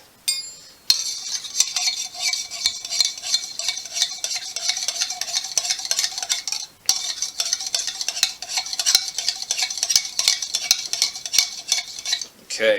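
A spoon stirring mint-infused brandy in a glass for a mint julep, rapid bright clinking and swirling that runs steadily with two brief pauses, close and fairly loud with no talking.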